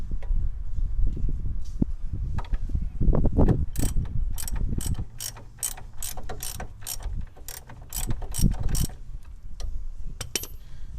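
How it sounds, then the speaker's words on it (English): A ratchet loosens the bottom suspension nut on a 1986 Chevy Caprice coupe. It gives a fast, even run of sharp clicks close by, after a stretch of heavier clunking and handling noise, with no speech. "Just loosening the nut completely now, and the jack is taking up the tension from the spring."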